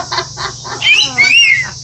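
Parrot at a zoo giving loud, rising squawks and whistly calls in the second half, close to the listener, after several short vocal bursts.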